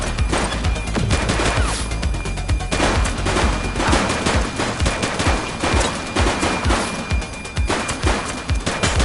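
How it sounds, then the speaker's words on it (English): Gunfire from a suspect in The Precinct, a police game: loud, rapid bursts of automatic shots cracking in quick succession for several seconds, with steady repeated reports and only brief gaps. "She's shooting!"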